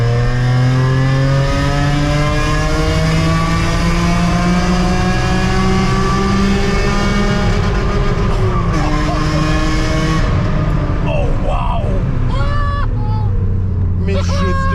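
A BMW E46 316 Ti carrying a swapped M3 engine accelerates hard, its loud rising engine note climbing through the gears with a brief shift dip, then fading near the end, while passengers talk over it inside the car.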